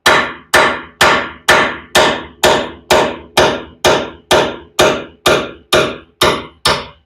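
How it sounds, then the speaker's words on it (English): A hammer strikes a wheel lug stud on a 1996 Geo Tracker about fourteen times in a steady, even rhythm, each blow a loud, sharp clang that rings briefly before the next. "Just let the hammer do the work."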